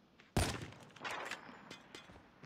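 A sudden loud gunshot blast in a shooting video game, followed by a few softer shots and impacts trailing off in the game's background.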